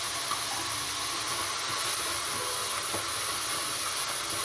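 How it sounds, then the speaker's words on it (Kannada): Cabbage sizzles steadily in a hot pan over a high flame while egg fried rice is cooked at home, a constant close, loud hiss with a bright high edge and no talk over it. "ಈಗ ಕ್ಯಾಬೇಜ್ ಹಾಕ್ತಾಯಿದ್ದೀನಿ. ಇದು ಹೈ ಫ್ಲೇಮಲ್ಲೇ ಇಟ್ಕೊಳ್ಳಿ"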